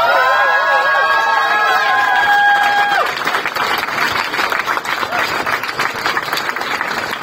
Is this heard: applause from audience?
yes